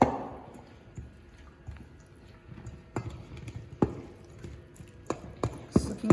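Barbecue sauce is stirred into a chicken and corn mixture with soft, wet squishes and light taps, quiet and sporadic, with a few sharper clicks near the end.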